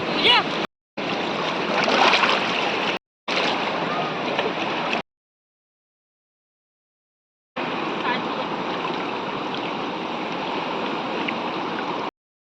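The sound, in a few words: flowing river water and waves at the bank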